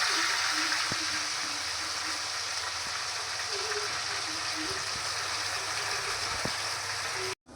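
Mushrooms frying in oil for a village-style curry give a steady, close sizzle with scattered small pops and crackles. The sizzle runs unbroken until it cuts off abruptly near the end.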